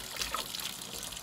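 Water running over mandarin oranges as they are rinsed, a brief close trickle and splash with no voices.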